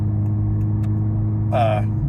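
A 2023 Honda Civic Type R FL5 with an AWE Track Edition exhaust drones steadily from inside the cabin while driving, a constant low hum with a brief voice sound near the end.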